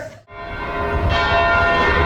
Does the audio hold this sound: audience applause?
no